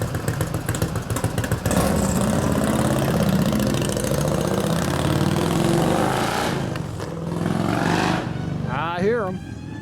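Harley-Davidson 93 ci panhead stroker motor in a 1989 Softail idles loudly and steadily close by, with voices talking over the engine's uneven rumble throughout.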